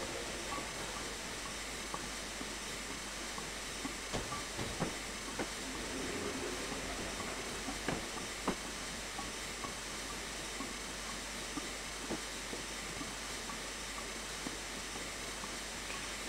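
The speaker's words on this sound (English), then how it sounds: "There is something about steam trains running backwards." A steam train on a heritage railway running backwards, with a steady broad hiss and rumble and a few faint clanks and knocks from the cars, heard from some distance.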